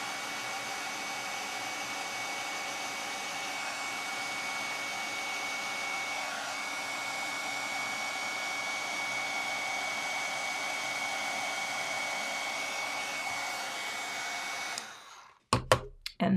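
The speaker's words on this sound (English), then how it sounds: "Now I'll get my heat tool warmed up so I can melt this powder." Electric heat tool for melting embossing powder on a butterfly shaker card, blowing a steady close whir of hot air for about fifteen seconds before switching off with a few brief clicks and handling noises.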